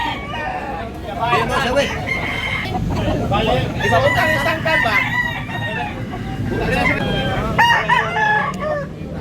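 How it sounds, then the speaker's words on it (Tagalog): Many chickens cluck and several roosters crow at close range in Tabunok, Cebu, a dense, continuous barnyard chorus with a voice talking among them. "Daghan kay manok mga idol, daming manok."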